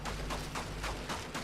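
Rapid bursts of video game gunfire in a battle royale shooter, a dense run of repeated shots at steady loudness with no talking.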